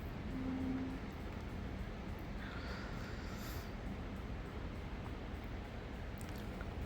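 Steady, dense rumble with a continuous broadband roar throughout, a train rolling past nearby at constant volume near a beach in Dubai, with no voices.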